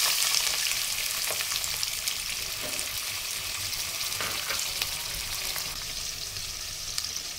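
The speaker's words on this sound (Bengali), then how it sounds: "এখন পেঁয়াজ দিয়ে দিচ্ছি সব" Onions sizzling and frying steadily in about half a cup of hot oil as the base for a venison curry, with a constant crackle and an occasional stir heard alone and at close range.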